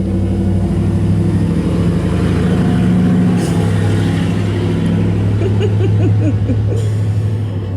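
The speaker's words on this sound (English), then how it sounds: "obnoxious truck coming back, lovely" A truck drives past outside an open door, its engine a steady loud rumble throughout with revving swells and no voices.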